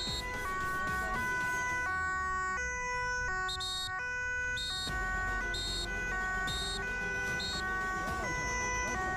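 An ambulance siren sounds at a busy intersection, loud and steady as its tones alternate and sweep up and down in a repeating pattern over road noise.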